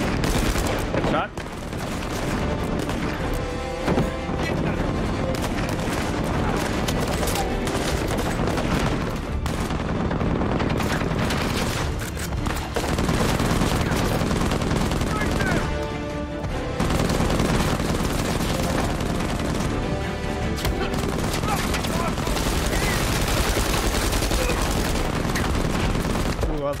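Enemies shooting in Uncharted 4: A Thief's End, bursts of automatic gunfire and booming shots recurring under a busy battle mix, loud and near, with a voice talking intermittently.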